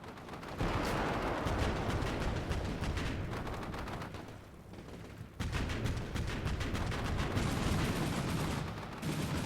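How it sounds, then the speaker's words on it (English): Rapid 35mm autocannon fire in the Combat Mission Shock Force 2 war game: dense, continuous bursts of shots and impacts with a brief lull midway, loud and alone without speech. "I move into Kilo in force with autocannon area firing at suspected buildings"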